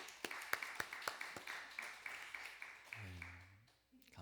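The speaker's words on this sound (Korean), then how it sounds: "다시 한번 박수해 주세요" A church congregation claps during a Sunday worship service, with sharp, uneven hand claps spread through the room at moderate volume, fading out as a voice speaks near the end.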